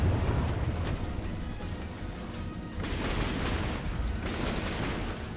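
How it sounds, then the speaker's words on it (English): Deep, distant booms from battleship guns in World of Warships roll out over a steady low rumble of sea and engine noise, with several heavy salvos spaced a second or two apart. "About to fire him with the battleship here."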